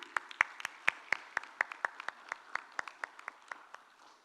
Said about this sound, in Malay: Marilah kita bersama-sama memberikan mereka tepukan yang paling gemuruh